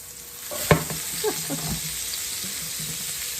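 Porgy fish sizzles in a frying pan as it gets flipped, with one sharp clack of the turn and then a steady hiss of frying close up.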